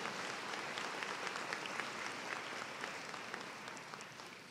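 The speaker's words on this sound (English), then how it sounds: "Let's give these individuals a round of applause for their service" An audience at a spring afternoon ceremony applauds honorees for their service, a sustained wash of clapping at moderate distance, fairly even throughout and slowly tapering toward the end.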